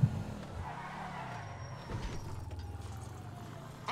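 Car in GTA 5 losing control at speed, engine droning with rising and falling pitch and a faint tire skid, fairly quiet throughout and ending in a soft knock.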